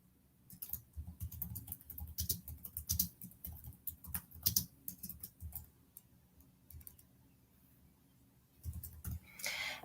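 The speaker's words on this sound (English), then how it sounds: "You would type in your directions." Fingers type on a computer keyboard in quick irregular bursts of soft clicking, pausing briefly partway through and then resuming, close and fairly quiet with no voices.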